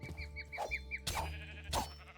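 Sheep bleating in the RLCraft video game, a few short wavering bleats at close range, with thumps and game sounds around them.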